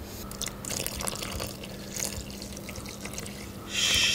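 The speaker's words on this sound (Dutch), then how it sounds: "een beetje water erbij" Water is poured into pepernoten dough in a mixing bowl, a few light splashing trickles that end in a louder, brighter pouring burst.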